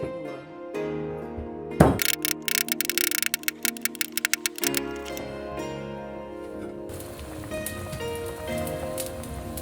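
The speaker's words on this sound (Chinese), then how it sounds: "顺便把这些边角料给它砍小备用。" A cleaver chops beef ligament trimmings into small pieces on a board, a quick run of sharp, close, repeated thuds over a busy background, with one brief vocal sound.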